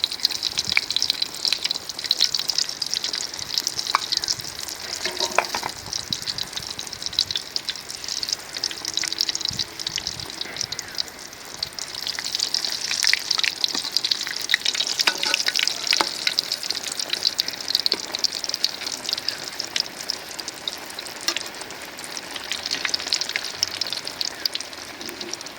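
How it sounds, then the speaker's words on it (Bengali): Eggplant slices dipped in gram flour batter fry as beguni in hot oil, a steady dense sizzle and crackle running the whole time with occasional stirring clinks, close and fairly loud. "এই যে হলাম বেগুনি ভাজতেছে।"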